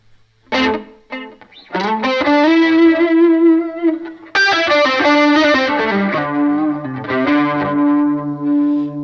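An electric guitar played through a multi-effects pedal with distorted tone and a delay set to low feedback and low mix, sustained notes and chords ringing out with a faint trailing repeat.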